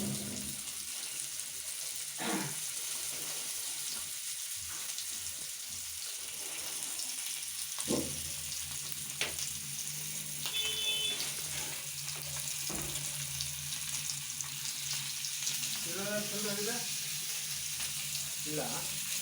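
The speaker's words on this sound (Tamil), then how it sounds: "மீன் வறுக்கிறதுக்கு எண்ணெய் கொஞ்சம் தாராளமாக விட்டுக்கலாம்." Fish fries in generous hot oil on a tawa, making a faint, continuous crackling sizzle with occasional clinks and scrapes, and a few brief bursts of low talk.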